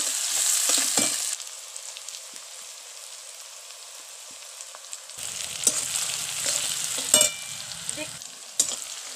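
Onions frying and being stirred in a pan with ginger-garlic paste for a chicken and potato curry, a steady close sizzle with scraping stir strokes that swell louder in the second half.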